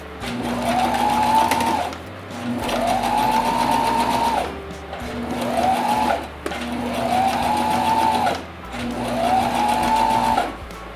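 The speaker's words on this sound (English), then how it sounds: "we're gonna do a little top stitch. And just sew all the way around the mask." A sewing machine top-stitches around a fabric face mask in five close, even bursts of rapid whirring stitching, each run separated by a brief pause.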